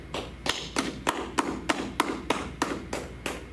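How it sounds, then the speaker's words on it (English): An audience at a religious brotherhood gathering claps together in a quick, steady beat, roughly a dozen firm claps evenly spaced with a thudding room sound behind them. "All right, clap it up."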